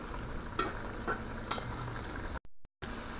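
Beef and potatoes stir fry cooking in a pan, giving a steady close sizzle and bubbling with a few soft clinks, then cutting out briefly near the end.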